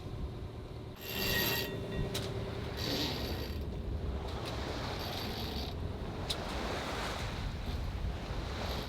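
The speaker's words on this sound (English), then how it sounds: "Hopefully this is the beginning of the wind and it stays like this." Wind and sea waves heard aboard a sailboat under way off Mexico, a steady broadband rush with gusty swells and occasional creaks or clicks of rigging, fairly loud and continuous with no talk.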